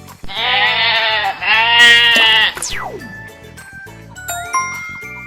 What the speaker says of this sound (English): Brown goat.